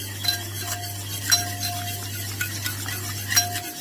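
Eggs and oil being stirred for a three-layer cake batter, a utensil scraping and tapping against the bowl in irregular strokes with a few sharper clinks, close and steady under a constant low hum, no voices.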